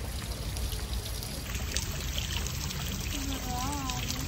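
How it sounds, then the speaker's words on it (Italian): Drinking water pours steadily from a public street fountain in Rome, a continuous outdoor splash and gurgle running the whole time under general city ambience. "Qui ci sono le fontanelle da cui sgorga acqua potabile"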